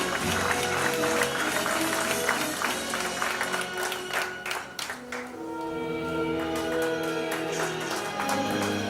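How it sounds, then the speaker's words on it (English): Audience applause for an award winner at a corporate awards ceremony, steady and fairly quiet with dense clapping throughout, a faint tonal music bed running underneath. "Can we please hear a round of applause?"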